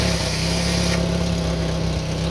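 An engine running at a steady idle during a diaphragm fuel pump pressure test, a loud close rumbling drone with even low vibration throughout.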